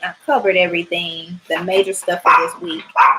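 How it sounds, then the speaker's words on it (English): A pet dog barks and yips at home while a person keeps talking over it, the short barks mixed into the ongoing speech. "Y'all excuse my dog."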